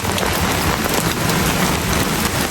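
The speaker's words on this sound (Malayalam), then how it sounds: "ഇപ്പോൾ ഇവിടെ നല്ല പെരും മഴയാണ്" Heavy monsoon rain in Kerala, pouring loudly and close on hard surfaces and an umbrella: a thick, unbroken hiss and patter with no voices.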